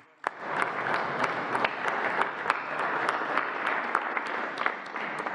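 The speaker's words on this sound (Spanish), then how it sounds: "Sí, sí, un aplauso a los gobernadores porque nos han ayudado." Sustained applause from an audience for state governors at an official event at the National Palace in Mexico, dense clapping starting abruptly and holding steady throughout.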